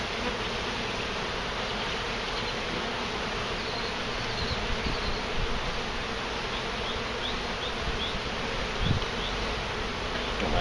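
Honey bees buzz in a dense, steady swarm all around during a hive removal where honeycomb is being cut out, with a faint knock near the end.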